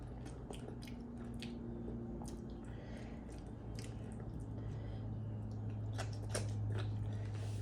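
Close, wet chewing of okra in pinakbet with coconut milk, soft crunches and squishy bites repeating steadily over a low background hum, no talking.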